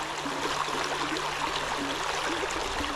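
A small trout creek in Schuylkill, Pennsylvania flows with a steady, close babbling rush of water, continuous and unbroken, with no voices over it.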